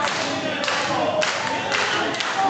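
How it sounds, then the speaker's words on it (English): Raucous crowd at a Friday-night wrestling show in Premier Arena, a dense steady roar with scattered claps and thuds rolling throughout, loud and close with no clear speech. "And once again, you hear the crowd. This raucous crowd pumped up here in Premier Arena tonight."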